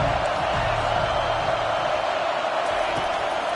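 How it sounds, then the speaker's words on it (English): Steady roar of a stadium crowd in a college football video game, Texas versus Auburn, swelling on third down; a dense, even wash of noise with no breaks, fairly loud throughout. "Decibels rising as the crowd gets behind this defense on third down."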